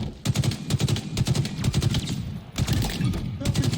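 Rapid automatic gunfire in a Halo-style multiplayer video game, loud close bursts of fast repeated shots separated by brief gaps, with a voice talking faintly underneath.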